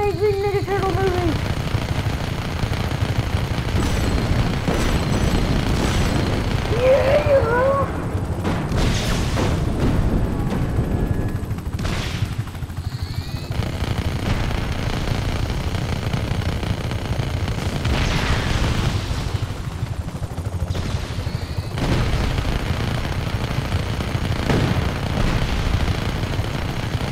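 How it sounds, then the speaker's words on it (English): Dense, continuous rumbling booms and blasts pile up nonstop, a chaotic wall of Just Cause 3 explosions with crackling debris and occasional faint voices underneath. "This is like the most explosions I've ever seen"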